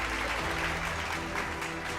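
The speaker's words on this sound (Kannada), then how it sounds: "ಒಂದು ಜೋರ ಚಪ್ಪಾಳೆ ಬರಲಿ ಸರ್" An indoor audience at a prize distribution event claps steadily and loudly in a dense, sustained round of applause.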